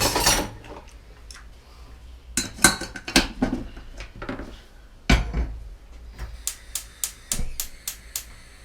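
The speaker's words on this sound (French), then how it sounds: "C'est la poignée de la casserole encore." A saucepan handle clanks against the pot while chocolate ganache is stirred for an opera cake, giving a series of sharp metallic clinks and knocks at irregular intervals with quiet gaps between.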